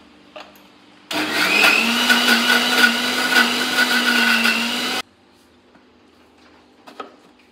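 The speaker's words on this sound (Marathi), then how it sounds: "हे एकजीव करून घेतलेलं खोबरं आणि कांदा पुन्हा मिक्सरला जरा लावते" A mixer grinder blending coconut and onion whirs loudly for about four seconds, a steady high-pitched motor roar that starts and stops abruptly, with quiet room sounds before and after.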